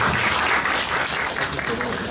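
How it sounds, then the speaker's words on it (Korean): An audience claps steadily at a Korean surface-treatment industry lecture event, a dense, even wash of applause held for the whole stretch. "다시 한번 박수 부탁드리겠습니다"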